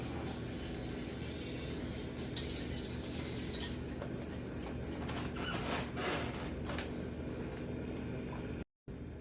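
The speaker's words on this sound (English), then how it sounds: "Just want to give it a little quick stir real quick" A spoon stirs Victoria sponge cake batter in a bowl, giving a steady close scraping and swishing with light clinks against the side under a constant low hum. No one speaks.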